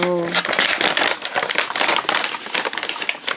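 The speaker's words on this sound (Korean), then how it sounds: "지금 언박싱 할 게 좀 있어가지고 같이 언박싱 해보려고요." Olive Young shopping bag and packaging crinkling during an unboxing at home: close, continuous rustling and crackling throughout, with a person talking over it.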